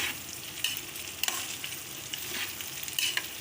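Okra frying in a pan while it is stirred, a steady close sizzle broken by a few sharp scrapes and clinks of a utensil, with no talking.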